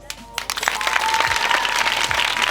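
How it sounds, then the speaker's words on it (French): An audience at a school gathering claps loudly and steadily, a dense burst of applause that swells quickly after a few scattered claps and holds, with faint voices mixed in. "On applaudit très fort"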